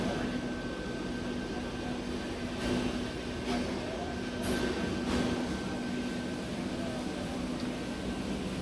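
A Mexican first-class passenger train near Cancun is heard from inside the carriage, with a steady rumbling roll, a faint constant whine and occasional soft clunks.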